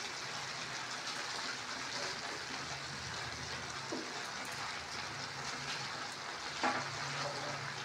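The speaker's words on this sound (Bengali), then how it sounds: "আমি গ্যাসের ফ্লেমটা হাই করে দিয়েছি, এভাবে নাড়তে থাকবো।" Shrimp and vegetables with greens frying over a high gas flame, a soft steady sizzle with occasional stirring and a utensil clink near the end, fairly faint and without talking.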